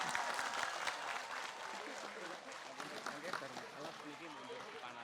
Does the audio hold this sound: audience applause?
yes